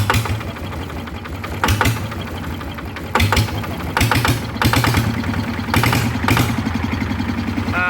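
A Yanmar engine revving at close range, steady low mechanical throb with repeated sharp bursts of acceleration rising and falling in rhythmic pulses, loud and alone.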